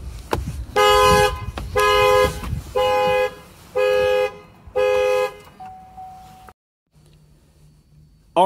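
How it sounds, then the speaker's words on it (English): A 2020 car's alarm, triggered by pulling the door handle, blares the horn in a repeated on-off pattern, six loud honks in a row, before cutting out and leaving a faint hum. "So as soon as you pull the door handle, you're gonna hear the alarm sound."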